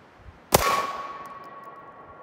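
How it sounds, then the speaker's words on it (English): A single 9mm full metal jacket round strikes a propane tank at handgun range, one sharp crack with a metallic ring that lingers and fades over about two seconds, heard alone. "We're now within handgun range, and we're trying a full metal jacket 9mm."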